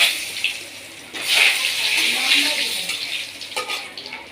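Cubed potatoes dropped into hot oil tempered with cumin, giving a sudden hissing burst of frying that settles into a steady crackling sizzle. Quiet talk can be heard now and then underneath.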